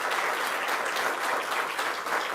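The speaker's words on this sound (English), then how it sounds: "Let's give them both a round of applause" An audience at a New York affordable housing announcement in Buffalo with Governor Kathy Hochul applauds Dr. Fadi and Kevin, a full, even round of clapping that holds steady and loud throughout.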